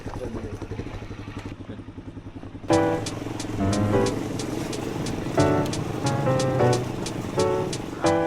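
A motorcycle rolls up on a street in Argentina, its engine rumble steady and close before a louder mix of engine, clatter and passing traffic takes over, with bright intermittent tones and a voice briefly present.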